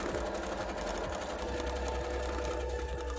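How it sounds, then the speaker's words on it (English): A sewing machine hums continuously and loudly at close range while doing free-motion embroidery on cosplay fabric, with a fast, steady whirring rhythm throughout. "Happy sewing machine going brrr."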